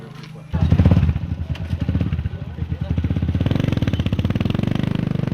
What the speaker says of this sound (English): riding on the back seats of motorcycles